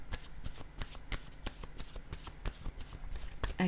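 A deck of playing cards is shuffled close by, a quick run of crisp riffling flutters repeating in a steady rhythm, fairly quiet.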